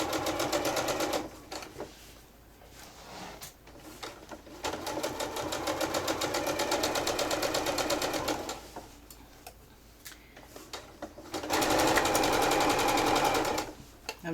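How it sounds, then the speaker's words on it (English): A sewing machine stitches fabric for a fully zipped and lined quilted tote bag, running in fast rattling bursts with brief pauses between seams, close and steady. "And we're going to carefully sew."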